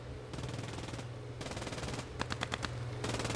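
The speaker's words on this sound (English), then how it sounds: "MG fire opening up from Partisans there" MG 42 machine gun fire in the World War II game Post Scriptum, long rapid bursts of distant automatic fire with short gaps and a few sharper close shots, faint overall.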